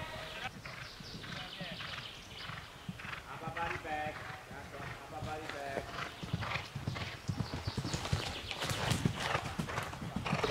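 Horse hooves clip-clop steadily through a riding training session, close and continuous, with a rider's and trainer's voices and faint animal calls mixed in.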